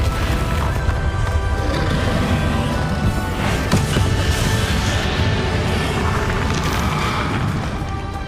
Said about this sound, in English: Exploding.